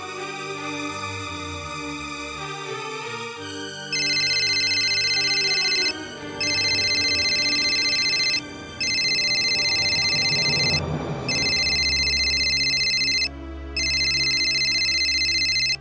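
A phone rings in repeated electronic bursts with short pauses between, loud and close, over a low musical background.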